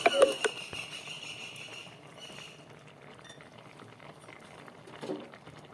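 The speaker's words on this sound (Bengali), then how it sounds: "সবজি ডাল চাল দিয়ে খিচুড়িটা ফুটে উঠেছে" Vegetable, lentil and rice khichuri bubbles in a pot, a soft, faint simmering patter that runs steadily throughout, with a few light clinks near the start and no talking.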